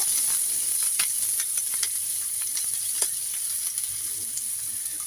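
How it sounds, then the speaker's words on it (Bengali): Garlic fries together with onions in a pan, giving a continuous soft sizzle with scattered crackles and light stirring clicks, heard alone. "রসুনটা দিয়ে ভাজা ভাজা করে নিব।"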